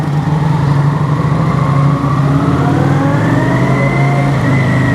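A motorcycle climbs the ramps of a parking garage, its engine loud and close as a steady drone that slowly rises in pitch while it accelerates, with no voices over it.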